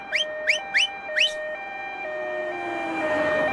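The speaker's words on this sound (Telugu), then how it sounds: "అంబులెన్స్ వస్తుంది." An ambulance siren wails loud and near on a road, rising chirps at first settling into a steady alternating tone as the vehicle passes, with no talk over it.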